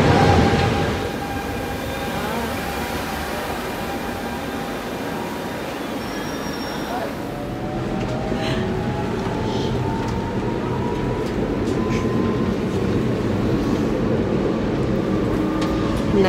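A train pulls in on a sunny day on a rail trip toward Paris, a steady heavy rumble of wheels and carriages with rising whining squeals as it slows, loud and close throughout.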